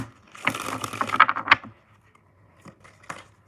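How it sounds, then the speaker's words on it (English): Tarot cards riffle and slap together in a quick shuffle, a burst of crisp flutters and taps, then a couple of faint softer taps. "one more shuffle and then we'll get to it"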